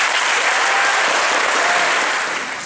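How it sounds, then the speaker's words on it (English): Audience applause at a 2014 middle school celebration honouring the eighth grade, a dense, loud wash of clapping from a large crowd that holds steady then begins to fade. "Please join me in giving the eighth grade a round of applause."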